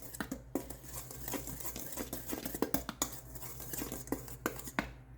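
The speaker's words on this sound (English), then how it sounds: "Now, the next thing is I have to whisk this together." Cake batter whisked in a bowl, a rapid, irregular run of close clinks and scrapes continuing throughout without talk.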